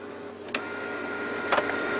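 A Canon Pixma MG-series printer initializing after ink cartridge installation, with a constant mechanical hum and two short whirring clicks of the moving carriage.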